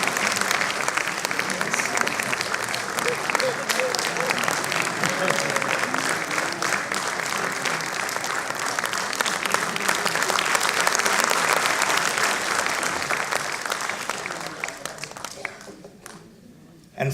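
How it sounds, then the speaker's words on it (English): Long, sustained round of audience applause at a 25th anniversary celebration as a little girl comes forward, a thick, steady crowd clapping that holds loud for about fourteen seconds before tapering off, with faint voices mixed in. "let's welcome her with a big round of applause"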